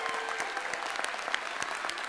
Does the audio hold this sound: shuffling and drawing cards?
no